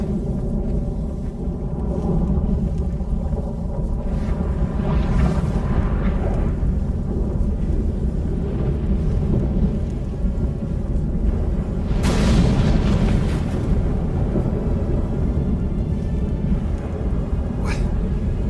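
Deep, continuous thunder rumbles through a sudden storm in The Witcher video game, with louder cracking bursts around the middle and a sharp crack near the end, no talking.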